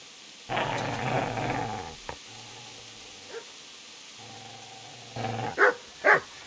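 A dog in the medieval video game Kingdom Come Deliverance gives a long low growl, then two short growls, and ends with a few sharp barks, close and fairly loud.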